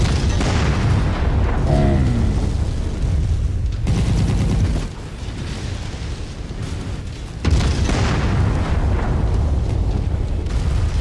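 Mag pulse weapons from a heavy mech in Mechwarrior 5 fire in sustained booming bursts, loud and close with explosive impacts, briefly easing before resuming.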